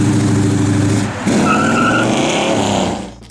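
A 1969 Plymouth GTX 440 muscle car with Track Pack roars loudly and steadily, its engine note shifting midway as tires squeal and skid, then the sound tapers off at the end.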